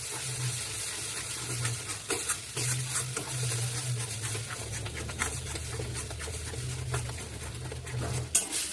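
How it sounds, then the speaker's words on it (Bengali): Thick mashed pumpkin paste with turmeric being stirred and dried in a wok, a steady scraping and soft sizzle with short utensil clinks, close and continuous without speech. "এবার ভালো করে নেড়ে চেড়ে এটা শুকিয়ে নিতে হবে। একদম কড়াইয়ের গা ছেড়ে দেওয়া অবধি নাড়তে হবে।"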